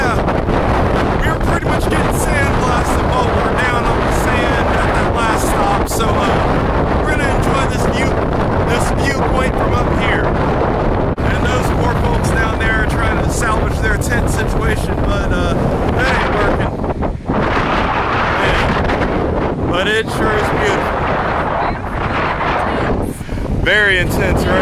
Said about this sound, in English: The beach is windy today, guys.